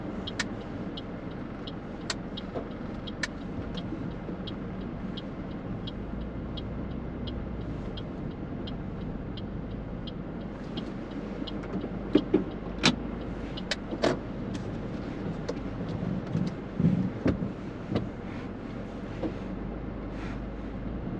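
A car driven on a New Zealand restricted licence mock driving test near Takanini, a steady interior engine and road rumble with occasional clicks and ticks, continuous and close, with no one talking.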